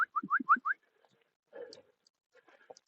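A person whistles to call back an off-leash pack of dogs outdoors: a quick run of five short, rising whistle notes, followed by a pause and a few faint, scattered sounds.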